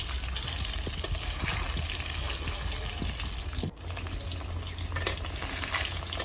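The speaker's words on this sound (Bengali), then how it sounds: "তো আমার ডিম ভাজা প্রায় কমপ্লিট।" Eggs frying in a home kitchen pan give a steady, close sizzle and crackle that runs throughout, with a brief dip partway through.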